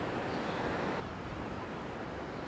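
Night surf at Newport Beach during a red tide, heard as a loud, steady wash of broadband noise that eases slightly after the first second, with waves breaking close by.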